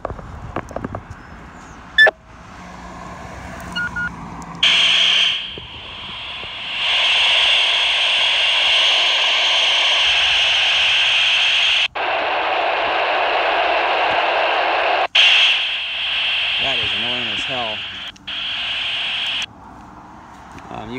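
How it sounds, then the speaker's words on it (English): Voice-inversion scrambled VHF radio transmission from a Retevis RT1 handheld: loud, garbled, hissy high-pitched sections that start and stop abruptly, with squelch breaks and a warbling tone near the end. "Hear how the audio is upshifted in tone, and that's just the inversion frequency."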